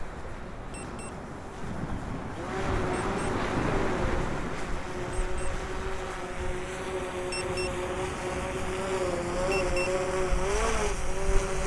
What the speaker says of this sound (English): I'll be able to hear some of that wind on the mic.